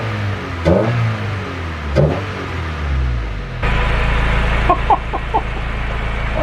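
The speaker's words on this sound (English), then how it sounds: "we'll give it a few revs to see if we can hear how the new intake will sound like." Honda Del Sol with a new carbon intake gives two quick throttle blips over a rumbling idle, then settles into a louder, steadier drone, close and dominant, with a few short chirpy sounds on top.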